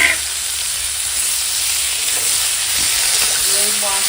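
Vegetables frying in whole spices as ginger and cumin paste goes into the pan, giving a steady loud sizzle and hiss that runs unbroken throughout, with a few faint clinks.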